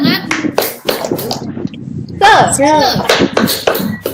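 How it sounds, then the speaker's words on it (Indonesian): Indonesian schoolchildren and their teacher doing the tepuk semangat, a rhythmic spirit clap of sharp hand claps in patterned bursts, mixed with close chanting voices and talking. "yuk kita lakukan bersama-sama tepuk semangat"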